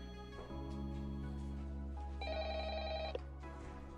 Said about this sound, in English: I gotta wait for the phone to stop ringing